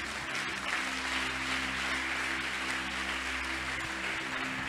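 A church congregation claps and cheers together, dense continuous applause held steady at moderate level beneath a low background hum.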